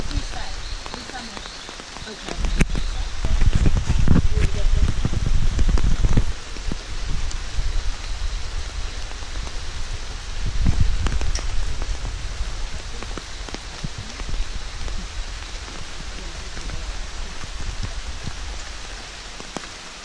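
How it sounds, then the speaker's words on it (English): Heavy rain pours steadily through a Costa Rica rainforest, a dense, continuous hiss of drops on foliage that swells louder at moments, close and enveloping, with no talk over it. "there couldn't be a better way to see a rainforest than in the rain"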